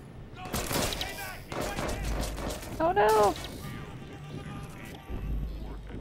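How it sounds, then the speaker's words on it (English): Gunfire in the video game Watch Dogs 2 comes as a scatter of sharp shots and crashes amid game effects and a brief tonal sting, moderately loud but somewhat muffled. "Oh, somebody's shooting at me."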